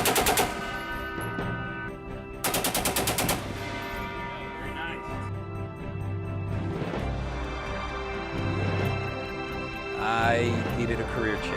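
Gunfire comes in two rapid automatic bursts near the start, loud and close, then gives way to background music and indistinct voices for the rest of the stretch.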